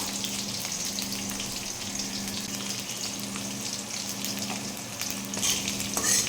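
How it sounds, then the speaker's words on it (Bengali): Dried red chillies, bay leaves, chopped green chillies and black cumin crackle in hot oil with a steady, close sizzle. A few soft stirring clicks come near the end. "শুকনো মরিচ, তেজপাতা, কাঁচামরিচ কুচি, সাথে কালো জিরা সব কিছু একসাথে নাড়াচাড়া করে ভেজে নেব"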